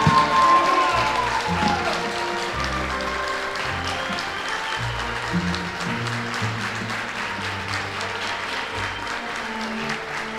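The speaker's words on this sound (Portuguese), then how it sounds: "Beijo na noiva, uma salva de palmas." Wedding guests break into loud, sustained applause for the newlyweds, a dense wash of clapping that starts strong and carries on steadily to the end.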